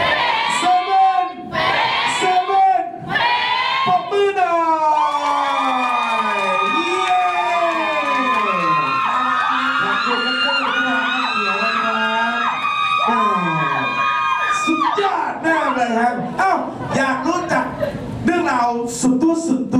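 Crowd at a meet and greet event shouting back in unison to a host's call, loud cheering and whooping voices rising and falling over about twenty seconds, with the host speaking into a microphone between bursts.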